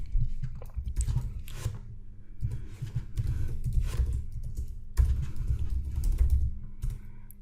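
Fingers tap out an email address on a computer keyboard in a quick, uneven patter of close keystrokes with brief pauses, no voices.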